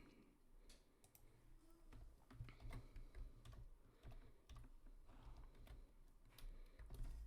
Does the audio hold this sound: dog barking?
no